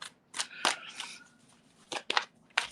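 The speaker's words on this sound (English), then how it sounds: "get a good shuffling." A fairly new tarot deck being shuffled by hand: several short crisp riffling bursts with pauses between, close and moderately quiet.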